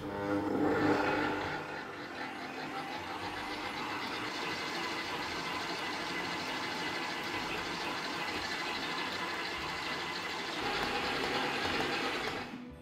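A stand mixer kneads plant-based brioche dough made with extra virgin olive oil in its bowl, giving off a steady, loud mechanical whir with a grinding, ratcheting texture that runs without a break.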